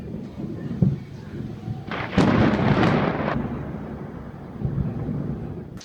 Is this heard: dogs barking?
no